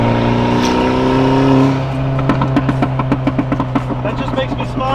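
A car's exhaust burbles while driving in a convoy behind a motorcycle: a steady engine drone gives way to a quick string of sharp popping crackles, loud and close.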